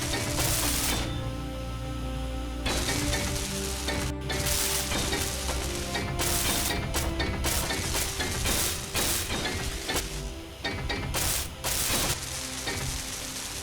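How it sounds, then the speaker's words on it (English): Video game welding: bursts of crackling, sizzling arc noise that start and stop in irregular spurts, fairly quiet with brief gaps between. "Then we can grab one of you and start welding."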